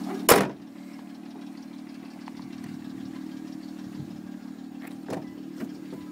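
Steady idle of a 2005 Hyundai Tucson 4WD's 2.7 liter V6, opening with a sharp thump like a hood closing, then a constant low drone with a few light clicks and rattles.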